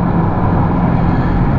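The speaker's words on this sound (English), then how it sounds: "There's quite a lot of noise coming from this car, which is surprising for Mercedes." Steady road and cabin rumble inside a 2011 Mercedes C Class 2.2 on the move, a constant broadband drone with strong low-end noise from underneath the car, loud and unbroken.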